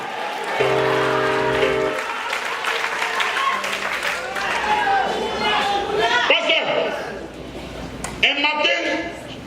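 A church congregation in Queens Village, New York, bursts into applause and acclaim, a sustained wash of clapping and cheering voices rising around a preacher's amplified speech.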